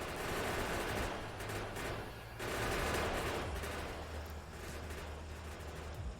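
Automated gun turrets in Factorio firing on attacking enemies, rapid continuous bursts of gunfire rolling over one another with brief lulls, moderately loud and unbroken by speech.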